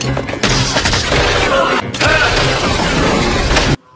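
Dense battle soundtrack from a Rambo film: loud continuous gunfire and booming explosions in a firefight with Russian soldiers, broken by a brief gap before another sustained barrage that cuts off abruptly.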